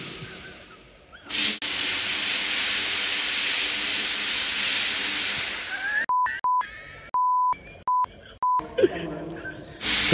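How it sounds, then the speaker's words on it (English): A floor sanding and polishing machine runs loud and steady for several seconds, a broad continuous whir and hiss. The machine cuts out into a series of beeps and tones near the end. "just sanding the floor, polishing it"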